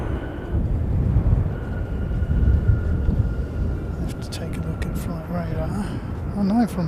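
An Airbus A321 airliner arriving from Brisbane rumbles in with a broad, steady roar that swells and eases, with a faint whine over it and brief voices near the end.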